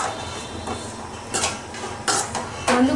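Shredded parotta being stirred in a pan for street-style kothu parotta, with a few scraping, clinking strokes of a utensil against metal, close and moderately loud, rising toward the end.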